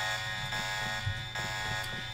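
Alarms blare in a Deus Ex: Revision game level, with a steady, buzzing electronic tone that holds evenly and continuously throughout, with no voices.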